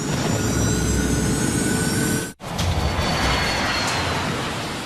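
Northwest Airlines flight 255, an airliner on its takeoff roll, roars with a loud broadband engine rush that cuts out abruptly for an instant and then resumes just as strongly.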